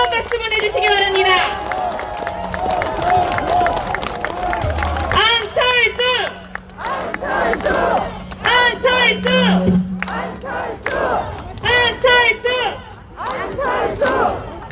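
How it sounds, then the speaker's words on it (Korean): A crowd at a Seoul by-election campaign rally bursts into loud cheering and rhythmic chanting, with bursts of applause and shouts rising and falling in waves after an announcer's call, a steady hum underneath. "다시 한번 뜨거운 박수 보내주시기 바랍니다"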